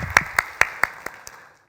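A church congregation at a Sunday children's worship service gives a short burst of clapping. About seven sharp claps fade quickly into silence.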